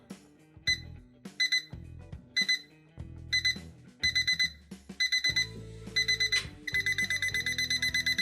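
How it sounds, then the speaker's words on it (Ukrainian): A mirrored digital alarm clock beeps in repeated bursts of rapid high tones, speeding into a faster continuous pattern, loud and close with no talking. "Ось так звучить сигнал будильника."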